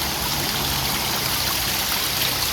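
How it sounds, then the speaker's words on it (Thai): A waterfall stream flows beside a restaurant, giving a steady, loud, close rush of water with constant broadband hiss and no breaks or voices. "บรรยากาศน้ำตกนี่น้ำเพชร"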